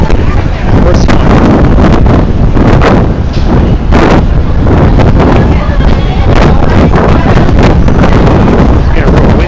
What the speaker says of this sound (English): It's getting real windy, man.